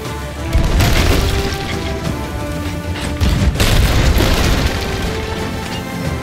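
Heavy booming cannon fire in a Sea of Thieves ship battle, two loud blasts about three seconds apart, each rolling into a rumbling tail.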